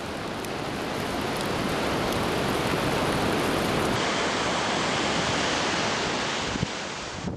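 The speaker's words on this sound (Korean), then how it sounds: "높이를 가늠할 수 없는 깊은 골짜기에 오직 세찬 물소리만이 가득합니다." Rushing water roars steadily through a deep Himalayan gorge, a dense, loud, continuous torrent of snowmelt and rain runoff with no voices.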